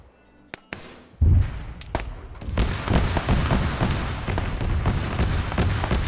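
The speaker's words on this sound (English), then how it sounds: "More artillery shells landing behind here." Artillery shells landing in a military combat video game, a rapid string of sharp booms and cracks that swell into a dense, rumbling barrage of overlapping impacts, loud and continuous after a few isolated early blasts.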